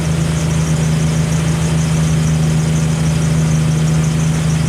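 Jeep Wrangler YJ engine idling at a raised speed set by a hand throttle, a loud, steady mid-pitched drone with a constant hum and no variation, close up and without speech.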